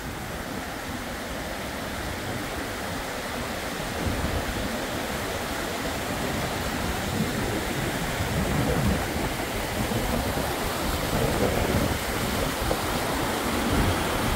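Steady broadband rush of a river and waterfall in Switzerland, loud and continuous with no voices, water flowing without pause for the full length.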